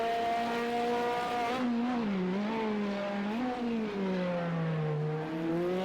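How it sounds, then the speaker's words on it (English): An LMP900 race car engine in Project Cars 2 revs and shifts pitch loudly and steadily, with a sustained tyre squeal blending into the engine whine as it corners at Laguna Seca. "hear the tyre squeal as it makes contact with the track"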